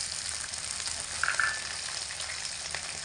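Chopped tomatoes and grated ginger sizzle in a frying pan, a steady close hiss of frying with a brief stirring scrape near the middle.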